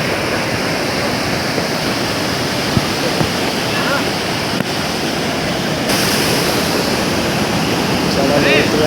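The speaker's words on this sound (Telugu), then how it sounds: "చూసారు కదా వాటర్ ఫ్లో అయితే ఎలాగుందో." Tarabu waterfall pouring steadily, a loud continuous rush of flowing water filling the whole scene from start to finish, with a slight rise in intensity toward the end.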